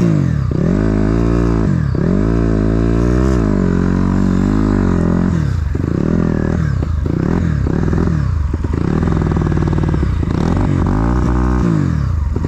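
An enduro motorcycle engine at a Lipki 2022 enduro competition revs loudly and close, rising and falling repeatedly through several throttle blips with mechanical clatter, with no talk over it.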